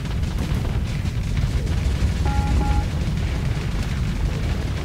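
Missiles explode in the space combat game Starsector. A dense, continuous roar of booms and blasts rumbles with no clear gaps over the whole stretch, loud and close.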